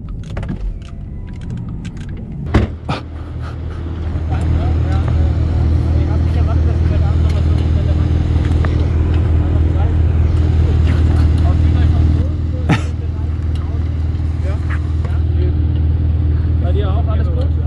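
A Porsche Taycan electric car rolls along the Hockenheim track at night, with a steady low motor and road hum under continuous cabin talk and a couple of sharp knocks near the start.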